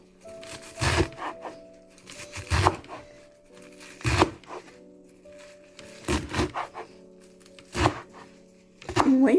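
A knife chops through a block of frozen spinach with crunchy, crackling strokes in several spaced bursts, close up, under a steady background hum.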